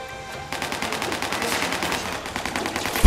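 Rapid video-game gunfire from Spider-Man: Shattered Dimensions, a dense run of repeated shots starting after a brief lead-in and continuing steadily at close range, loud and busy with no talk over it.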